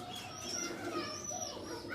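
Arkani-eyed pigeons in a breeding setup cooing softly nearby, low murmuring calls blended with faint background noise and no clear talk.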